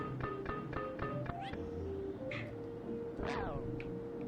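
Several cat meows from the Pac-Man 2: The New Adventures video game, a run of short repeated mews followed by a longer drawn-out yowl, close and clear over a busy game soundtrack.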